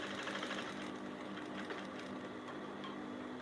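A sewing machine runs in a steady, continuous whir while stitching a sleeve into a crossing wrap blouse, moderately quiet and close, with no talking.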